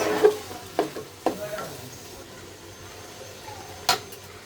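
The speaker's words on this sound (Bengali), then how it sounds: "চালটা ভাজা হয়ে গেছে।" Washed rice and lentils for khichuri are stir-fried in a pot, giving a few distinct scraping stirs and clinks over a soft, low sizzle, close by with quiet gaps between strokes.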